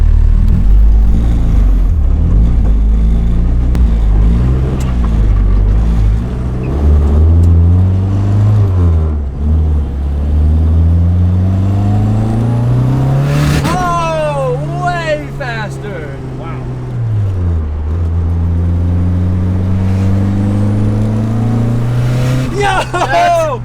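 A Mazda RX7 FD accelerates hard on a pull, its engine note climbing loudly through the revs, dropping at a gear change, then rising again before backing off, heard up close.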